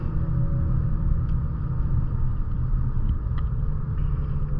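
Infiniti Q60 Red Sport with an axle-back exhaust cruising on the road, a steady, loud low engine rumble with constant road and cabin drone and no speech.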